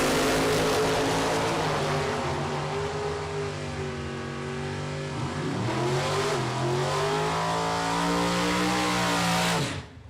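A Super Pro drag race at the start line: an S10 truck and a '63 Corvette, engines loud and close, holding a steady roar with rising and dipping revs, then a sharp launch surge before the sound cuts off.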